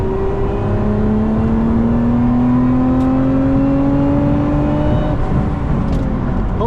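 A 2025 Lotus Emira V6 accelerates hard in third gear on a track with cold tires, the engine note climbing steadily in one loud, close, continuous pull with no talking.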